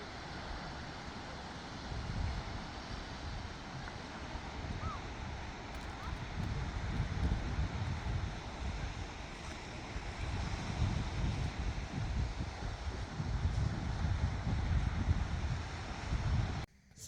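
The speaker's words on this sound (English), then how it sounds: "just listen to the sounds of those beautiful waves" Waves washing onto the beach at Bacton, Norfolk, a steady broad surf roar mixed with wind buffeting the microphone, continuous and fairly close with no talk.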